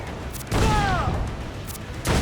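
Pirate ship cannons in Assassin's Creed IV: Black Flag let off a heavy booming volley, followed by rumbling battle noise and a second burst near the end, with voices faintly audible in the mix.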